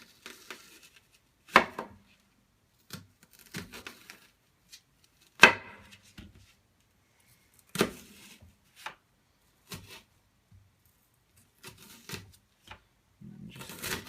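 A knife chops an onion on a cutting board in sharp, irregular single strikes with pauses between them, crisp and close in a quiet room.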